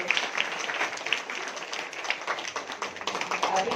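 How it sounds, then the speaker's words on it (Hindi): Women at a Women's Day programme applaud briefly, a dense patter of many hands clapping at moderate loudness for a few seconds. "इसलिए एक ताली अपने लिए जरूर बजाएं।"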